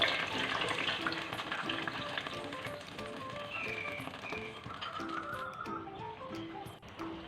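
A spoon stirs semolina through darkened melted sugar in a pan over a very low flame, giving a soft continuous sizzle with gentle scraping and light taps, close and fairly quiet, with faint music underneath.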